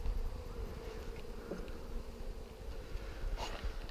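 Honeybees buzzing around an open hive in Alaska during a brood frame swap, a steady, dense hum that stays close and continuous throughout, with occasional louder passes of individual bees.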